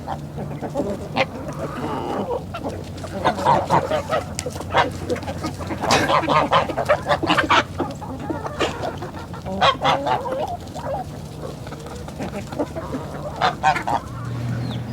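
A backyard flock of chickens squabbles over leftover food scraps, with repeated honking squawks and clucks in uneven bursts, close and fairly loud throughout.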